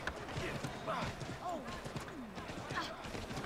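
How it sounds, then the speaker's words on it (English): Slow horse in Assassin's Creed III clip-clopping along with rhythmic hoof thuds close by, while someone talks over the steady plodding. "This horse is very slow."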